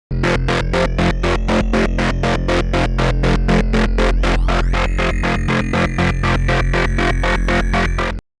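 A synthesizer pulse bass made in Massive pulses in a rapid, steady rhythm of short repeated notes, loud and continuous, its tone brightening partway through before cutting off.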